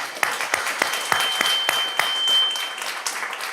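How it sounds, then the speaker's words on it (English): Audience applause at a school district staff gathering, a moderately sized crowd clapping with distinct sharp individual claps standing out over a steady patter. "Can we please give him a round of applause?"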